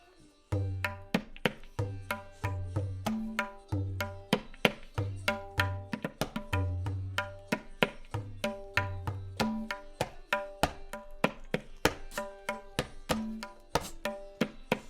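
Tabla playing a steady repeating pattern at moderate tempo, crisp treble strokes interleaved with resonant bass tones, close and clear.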